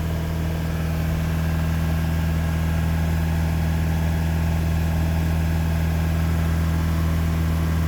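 A Mitsubishi Outlander engine held at about 2,500 RPM during a DPF clean, giving a steady, loud, unbroken drone with a deep hum and no talking.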